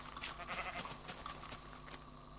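A Minecraft goat bleats in the game, several short nasal cries over a constant background of game sound, with no talking.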